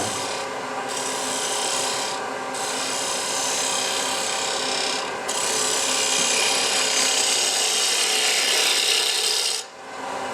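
Wood being cut on a lathe with a hand-held turning tool, a steady close rasping and scraping that runs almost continuously with a few brief lifts of the tool.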